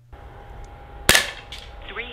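Single sharp crack of an FX air pistol fired in CO2 mode on its lowest power setting, one close loud report over a faint electronic hum, followed by a brief rattle.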